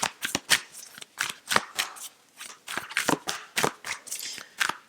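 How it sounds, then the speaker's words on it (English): Tarot cards being shuffled and drawn by hand, a quick run of crisp riffling and slapping bursts, close and fairly loud, with no talking. "Let's get the rest of the cards out."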